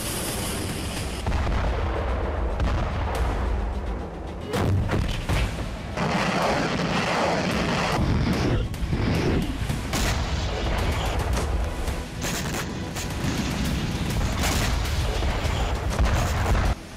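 Artillery fire and explosions during attacks on Kharkiv, Ukraine: repeated heavy booms and bursts of gunfire at irregular intervals over a continuous loud rumble lasting throughout.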